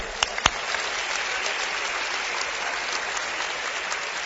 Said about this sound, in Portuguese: Vamos bater uma salva de palmas agora para todos nós?